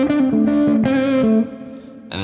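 Electric guitar through the first channel of a UA Super Lion amp pedal plays a few overdriven, sustained chords and notes up close, then rings out before a final sharp strum.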